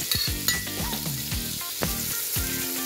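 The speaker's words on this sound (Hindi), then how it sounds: "थोड़ी देर तक हम इसको फ्राई करेंगे।" Vegetables for vegetable French toast frying in a pan, with a steady loud sizzle throughout and repeated scraping stirs that rise and fall over it.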